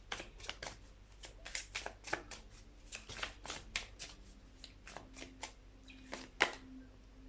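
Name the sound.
tarot cards being shuffled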